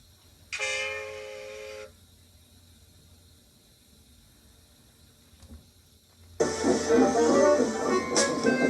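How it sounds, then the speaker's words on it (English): A steam engine whistle blows once, loud and steady for about a second, followed by quiet, then a noisy rush of train sound swells in. "I think that might be Duke's whistle as well."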